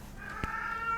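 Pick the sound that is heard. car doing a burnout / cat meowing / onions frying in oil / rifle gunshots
cat meowing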